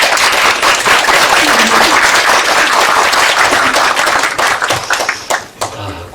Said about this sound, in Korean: 목사님 나오실 때 많은 박수로 환영 부탁드립니다.